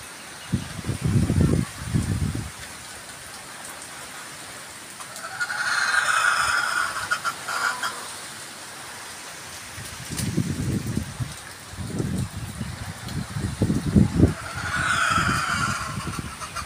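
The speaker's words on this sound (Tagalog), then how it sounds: "yung lakas ng ulan, pero mas malakas yung hangin niya" Light rain driven by strong, gusty wind outdoors, with gusts surging and fading in broad waves over a steady rain hiss. Some brief louder rustling bursts stand out.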